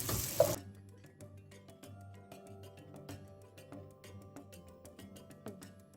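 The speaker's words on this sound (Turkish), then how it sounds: "Şimdi soğanımızı ve sarımsağımızı kısık ateşte güzelce bir kavuruyoruz." Onion and garlic sizzle softly in a pan over low heat, a steady crackle with scattered pops, after a brief burst of louder noise at the start.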